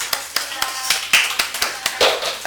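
A church congregation applauds during a Sunday service, a brisk run of rhythmic claps close and fairly loud, steady for a couple of seconds.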